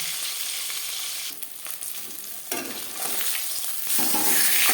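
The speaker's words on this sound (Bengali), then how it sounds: "মাছ ভেজে নেব" Marinated fish frying in hot mustard oil, a close crackling sizzle that shifts in intensity with stirring, dropping briefly before swelling louder toward the end, with no voices.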